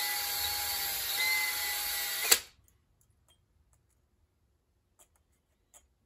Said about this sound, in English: and just drill those out